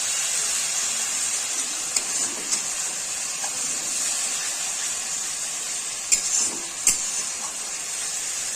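Grated tomato hits frying masala in a pan for restaurant-style masala bhindi, giving a steady, close hiss of sizzling broken by a few sharp stirring clicks.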